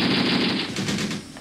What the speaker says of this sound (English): We've got a gun shooting.